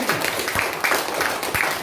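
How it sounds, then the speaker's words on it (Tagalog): A church congregation claps at a service, scattered clapping bursts under a preacher's voice talking over the sound. "Pumalakpak ang mga gising!"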